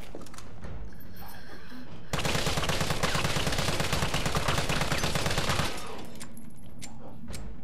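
An assault rifle with a tactical grip firing full-auto in the Resident Evil 3 Remake video game, a loud, rapid, sustained burst of gunfire lasting several seconds, bracketed by quieter game ambience.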